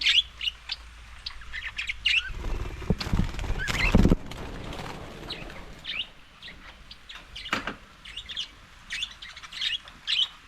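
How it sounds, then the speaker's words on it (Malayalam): Caged birds chirp and squawk in fright while a snake gets into their cage, with sharp repeated calls over about ten seconds and a burst of loud scuffling and flapping near the middle. "കിളികളെല്ലാം പേടിച്ചു പോവാ."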